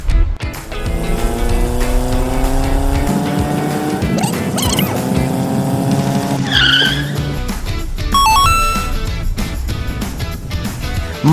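A Toyota Majesty van drives with its engine revving up through gears in rising whines, loud and close, with road rumble and a few sharp higher tones near the end.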